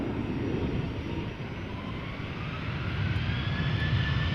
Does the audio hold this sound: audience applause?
no